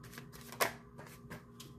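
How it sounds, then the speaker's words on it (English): A deck of tarot cards being shuffled close by, quick papery riffles with one sharper snap in the middle, quiet and without talking. "So we're just gonna keep shuffling for another one."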